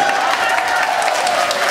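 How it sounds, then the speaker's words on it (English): An event audience claps for a guest from Vietnam, a short, loud, steady burst of crowd applause with a faint murmur underneath. "Then let's clap for him lah. Hey, come let's clap for him"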